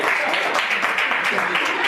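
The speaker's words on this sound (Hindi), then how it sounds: "तालियां हो जाए" An audience at a Hindi-Urdu poetry open mic in Satna claps in a loud, dense burst that fills the whole moment, with some voices mixed into the applause.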